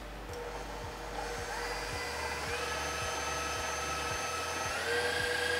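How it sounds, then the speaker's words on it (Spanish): Electric mixer whipping egg whites with sugar at high speed for a firm-peak meringue in a pastry class, a steady loud whirring drone running throughout with a faint rhythmic thump from the beaters. "Voy a agregar clara de huevo, azúcar A, o sea, la primera cantidad de azúcar, porque hay dos, en este caso sería la A, y vamos a empezar a batir a velocidad alta"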